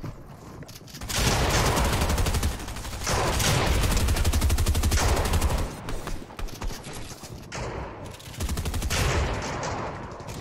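Rapid bursts of automatic gunfire during a video game shootout, loud and dense in long stretches broken by short pauses.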